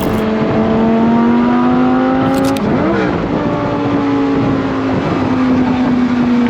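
A powerful Lamborghini engine revs loudly up close, its pitch climbing steadily, dipping briefly midway, then holding a high, sustained roar.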